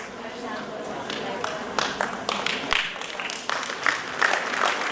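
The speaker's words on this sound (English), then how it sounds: "Once again, with a big round of applause, we welcome Honorable MLA Raigada." An audience applauds to welcome a guest onto the dais at the inauguration of a national tribal dance festival, a steady patter of clapping with a few sharper claps standing out, heard from moderately near.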